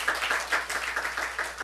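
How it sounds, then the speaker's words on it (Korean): A congregation claps during a Sunday worship service at a Seoul church, producing a rhythmic series of roughly eight quick, even claps, moderately loud and close, with no talking over them. "우리 하나님께 박수 올려드려요."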